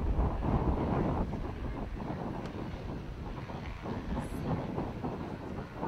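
Gusty wind at an outdoor airshow buffets the microphone in a continuous low rumbling roar that swells and eases, with no voices.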